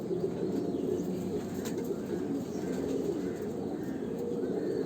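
A pair of domestic fantail pigeons in a household loft give off a steady, throaty cooing drone, many overlapping calls blending into one close, unbroken hum with occasional faint chirps and no voices.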